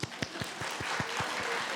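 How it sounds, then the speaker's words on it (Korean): Rhythmic clapping from a church congregation during a Sunday sermon, a steady beat of roughly five claps per second, fairly close and moderately loud with a wash of scattered hand noise behind it. "박수."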